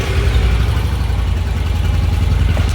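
A 2015-16 Honda Pioneer 500 side-by-side engine idles steadily and close by, a continuous low, even rumble.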